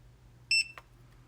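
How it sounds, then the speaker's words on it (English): A short, high electronic double beep from a TireMinder TM 88C tire monitor sounds once after its buttons are held, in an otherwise quiet room, followed by a faint click. "hold them down for 5 seconds until you hear a beep"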